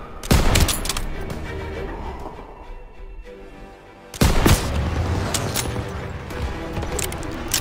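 Weapons fire in a World War II street battle in Call of Duty WWII, with two heavy, close volleys of gunshots and booms, one near the start and one midway, each followed by a sustained rumble of distant battle.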